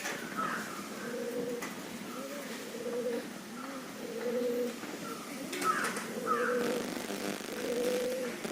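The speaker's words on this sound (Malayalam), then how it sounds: "നമ്മുടെ ഈ പെടപ്രാവ് ഗീവ് അവേയിൽ കൊടുക്കുന്ന പ്രാവ്" A female pigeon coos repeatedly and close by, giving soft, rolling phrases at a steady pace over a quiet background, with a brief rustle partway through.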